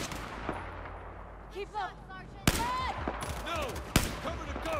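Light machine gun firing in the Battlefield 4 video game: sharp bursts of gunfire crack through after a quieter stretch, with a player talking over the game sounds.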